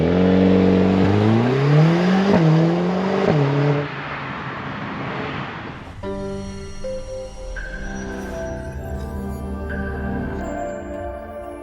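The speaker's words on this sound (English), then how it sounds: "foot hard on the brake, foot hard on the throttle," A Mercedes-AMG A45 S hot hatch holds a loud launch-control rev at a race start, then surges away through rapid upshifts with stepped pitch drops, before settling into a steadier tone inside the cabin.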